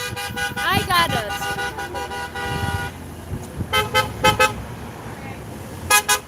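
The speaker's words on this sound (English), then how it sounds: "They honk so much." Car horns toot repeatedly at a street rally for Trump in Beverly Hills, loud bursts and short honks scattered over traffic, with people talking in between.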